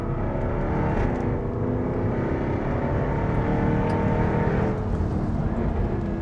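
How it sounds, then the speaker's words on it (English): A Jaguar F-type R coupe driven hard around the Circuit de Catalunya, its engine a loud, steady roar heard from inside the car with shifting pitch as it accelerates and eases off. "let us have a little play with the F-type coupe around the Circuit de Catalunya and see what it does"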